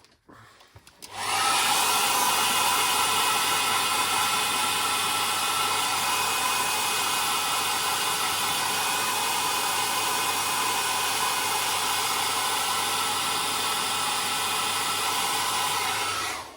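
Hair dryer blowing on wet weathering paint on a Trade Federation AAT scale model, switching on abruptly and holding a loud, steady whooshing roar with a constant motor hum, close by and alone.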